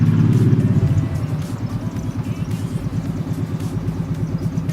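Motorcycle passing on the street outside, a steady throbbing engine rumble with a rapid pulsing beat, fairly loud and continuous throughout.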